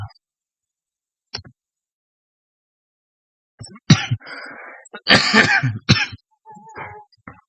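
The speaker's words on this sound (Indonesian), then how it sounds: "Maaf ya, saya lagi batuk." Several sharp coughs, one brief burst early, then a cluster of harsh, close coughs with throat-clearing, separated by silence.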